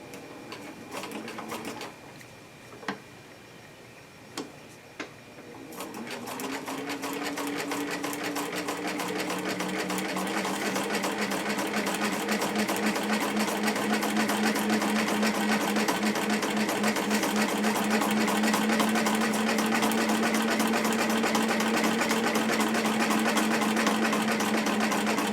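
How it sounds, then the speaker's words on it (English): A sewing machine stitches pieces of a 54-40 or Fight quilt block together at fifteen stitches per inch. A few soft clicks come first, then the machine starts and hums in a steady, fast whir that runs loud to the end. "placed, set up so that I have 15 stitches per inch"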